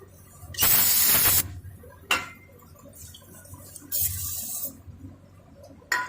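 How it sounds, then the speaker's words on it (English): Penetrating oil sprayed onto a rusty brake hose fitting on a 2013-2020 Ford Fusion, in two loud, close hissing bursts of about a second each, with small metallic clicks and taps between them. "Some penetrating oil."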